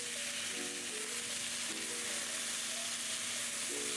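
Canned salmon sizzles steadily in a hot pan, a loud continuous frying hiss with faint stirring clinks and no talk.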